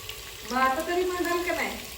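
Chopped onion is added to a pan of frying garlic and sizzles steadily, soft and close, for about two seconds, with a faint stir and no speech.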